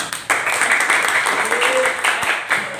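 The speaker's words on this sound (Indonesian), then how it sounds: "sambut dengan tepuk tangan yang meriah" A class of schoolchildren claps for a group, a burst of close, lively applause starting abruptly and continuing steadily, with a voice briefly heard over it.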